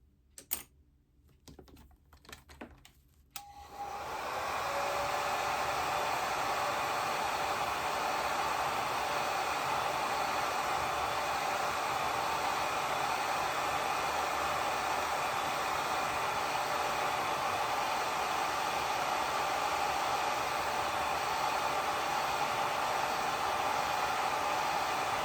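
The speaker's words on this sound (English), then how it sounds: "now I'm going to dry this" A hair dryer drying a watercolor painting switches on after a few light taps and clicks, then blows as a steady, loud, close whooshing hiss for over twenty seconds without talk.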